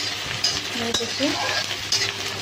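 Sliced onions fry in a pan for spinach kofta curry, a soft sizzle running under a few spoon scrapes and light clinks against the metal.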